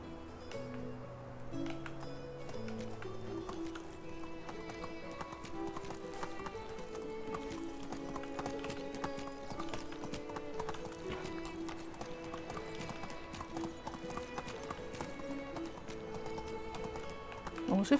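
Steady galloping horse hooves clip-clop beneath music in the video game Medieval Dynasty, with occasional whinnies and a voice talking over the top.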